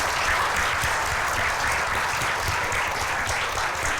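Steady, dense applause from an audience at a gathering honouring a Hindi-medium UPSC topper, sustained evenly throughout with no voices over it.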